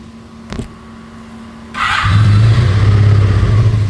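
A cold 1985 Honda VF700S Sabre motorcycle engine starts up partway through and settles into a loud, steady idle with a low, throaty exhaust rumble, after a brief click at the start.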